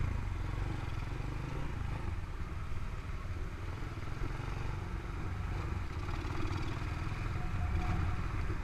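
A 125cc motorcycle engine running unevenly, a low rough chugging rumble with a clattering texture, steady and moderately faint.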